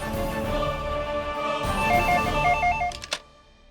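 A telephone rings with a warbling electronic tone, repeating a few times close by before cutting off abruptly.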